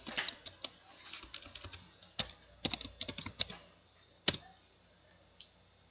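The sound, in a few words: typing commands on a computer keyboard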